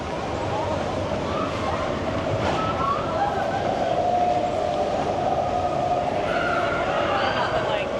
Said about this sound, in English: we're hoping to get a monorail shot.